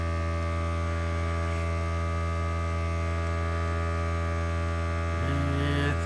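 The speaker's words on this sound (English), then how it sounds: "let my compressor stop" Airbrush compressor running with a steady loud electric hum and drone, constant throughout with a slight shift in pitch near the end.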